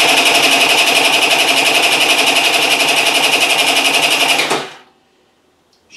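A fuel-injected Piaggio Gilera Runner scooter engine runs with a loud, rapid, buzzing rattle for several seconds, then cuts out abruptly into near silence.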